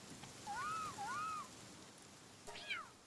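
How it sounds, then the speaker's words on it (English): Two drawn-out rising-falling meows from a cat in the video game Palworld, followed by a shorter higher cry, fairly quiet against a soft background of game ambience. "I heard a cat."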